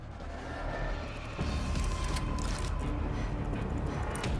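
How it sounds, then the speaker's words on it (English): Mechanical clanks and ratcheting clicks as a machine gun locks into place in the World War Z zombie shooter, set in Tokyo, a steady metallic clatter running throughout with a louder thump partway through. "Machine guns locked in."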